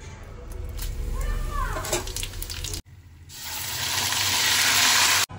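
A main vegetable curry sautéing in a pan gives a loud, steady sizzle in the second half after a sudden break. Earlier, softer, a few gliding mew-like squeaks rise over the background hiss.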